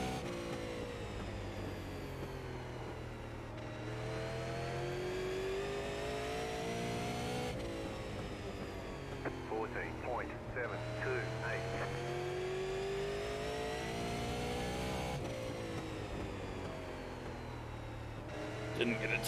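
Super late model race car engines in the iRacing video game, recorded on the oval at The Bullring. Engines roar and rise steadily through the gears with brief lifts, and someone talks over them.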